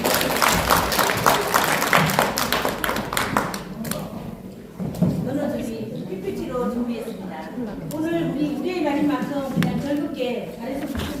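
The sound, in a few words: audience applause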